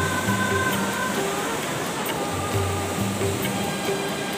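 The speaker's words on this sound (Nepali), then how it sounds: "यहाँ खोला छ नि त, यो खोला" A stream flows steadily beside a forest, its broad continuous rushing water filling the scene loud and close, with no pause throughout.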